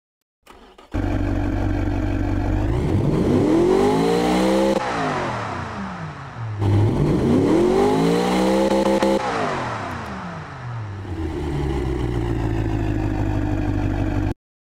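A simulated race car engine from the video game Automation, built for a 2018-spec DTM car, revs up hard twice, each roar climbing then falling back, before settling into a rough, steady drone. Loud and close.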